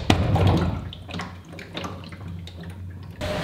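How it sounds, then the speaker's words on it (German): Well water pumped into a tank at a house in the woods, splashing and gurgling with uneven bursts and drips, close and fairly loud, easing midway then surging again. "Das Wasser läuft jetzt hier in den ersten Tank und der zweite füllt sich aber auch mit auf."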